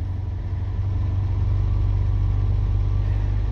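A Talbot Express Harmony RV with a 2.0 litre engine idles at half choke in cold weather, a steady low rumbling drone, close and even throughout.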